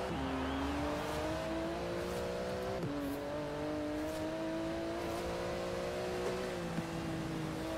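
Porsche 911 GT2 RS engine in the Forza Horizon 4 racing game, racing in winter against a Dodge Viper ACR, a loud continuous roar holding high revs with a brief dip during a gear change and no talking.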